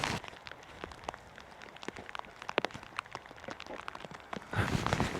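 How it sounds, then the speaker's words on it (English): Rain falls on a wet morning at a campervan stop in Yorkshire, a steady patter with scattered close drips and taps, growing louder and denser near the end. "Are you going mad in the rain?"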